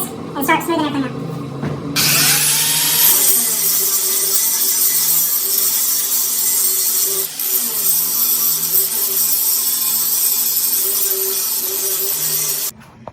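An angle grinder cuts down metal tabs on a Suzuki Katana motorcycle frame, a loud, close, continuous grinding whine that holds steady with slight pitch dips as the disc bites, then stops abruptly.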